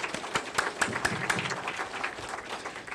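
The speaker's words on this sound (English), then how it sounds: "Another round of applause" An audience at a Foreign Service Academy launch gives a brief round of applause, a dense patter of many hands clapping at moderate volume, steady for three seconds.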